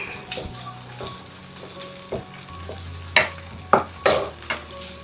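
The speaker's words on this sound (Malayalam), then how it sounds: "ഒരു മിനിറ്റ് ഒന്ന് ഇളക്കി കൊടുക്കുക. വറ്റൽമുളക് ഒന്ന് മൂത്ത് വരണം." Dried red chillies frying in a pan, stirred with a spoon: scraping strokes and clinks come at irregular intervals over a low, steady sizzle, with a few louder knocks near the end.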